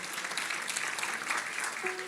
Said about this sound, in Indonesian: Kasih tepuk tangan untuk saudari kita.